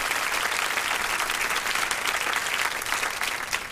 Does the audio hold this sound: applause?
yes